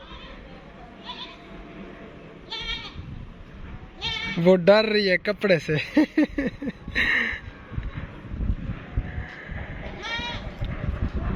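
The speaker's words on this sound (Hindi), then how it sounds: "और बकरी भी आ रही है, ये देखें जी अपनी जगह पे।" A goat on a village farm bleats several times in loud, wavering cries, mixed with a person talking nearby and rustling background noise.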